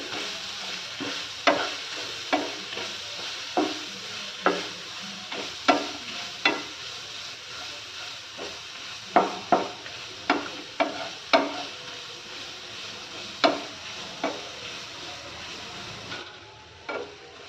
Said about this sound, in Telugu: క్యారెట్ని కూడా మనం చక్కగా ఇలా ఆయిల్లో బాగా ఫ్రై చేసుకోవాలి.